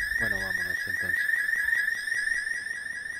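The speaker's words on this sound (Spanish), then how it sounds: "¿Cómo suena la alarma?" A steady, high, continuous alarm siren from a GTA roleplay video game sounds loudly throughout, with a brief burst of talk near the start and game background noise underneath.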